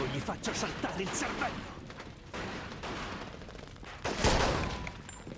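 Gunfire rattles in the Mafia 2 video game, scattered shots and bursts under excited voices talking over them, with a louder burst toward the end.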